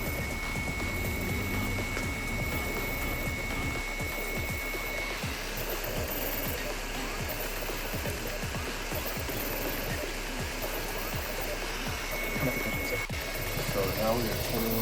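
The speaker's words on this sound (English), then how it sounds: "I haven't seen a printer move this fast ever." A Kobra 3 3D printer runs at high speed while printing, its stepper motors whirring in a steady, fast, rapidly ticking buzz with constant close mechanical chatter, with a person talking over it.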